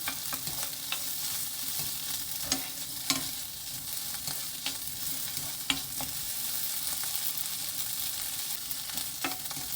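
Sliced ham stir-frying in a pan, first on high heat and then lower until golden, sizzles steadily, with repeated sharp spatula clicks and scrapes landing at irregular intervals throughout.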